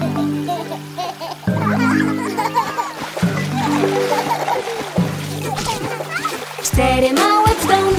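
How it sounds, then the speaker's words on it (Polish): Four small children splash in a pool at a water park, with repeated watery splatters and sloshes mixed under a children's song with steady musical backing and sung voices. "Cztery brzdące w basenie pluskają teraz się."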